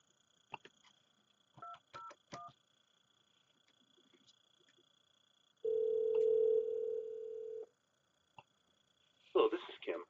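An office desk phone dials an extension to reach voicemail, with a few short clicks and beeps, then a sustained steady tone lasting about two seconds and a final burst of tones, faint background otherwise quiet.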